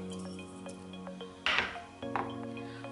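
Half a sliced onion and other ingredients dropped into a pot of heating water for peri peri chicken, giving faint clinks and a couple of wet splashes and plops against a quiet kitchen background.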